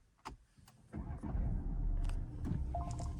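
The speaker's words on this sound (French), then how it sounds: "On va démarrer la voiture." A Citroën DS4 car's engine cranks and catches after a few quiet clicks, then settles into a steady low idle, heard close from inside the cabin.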